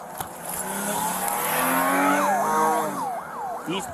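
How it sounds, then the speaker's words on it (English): A stolen SUV peels away at speed during a police chase, its engine roaring loud and close with tires squealing, while a rising and falling police siren wails repeatedly over the top toward the end. "she dove through the open passenger window, shifted it into gear, and took off"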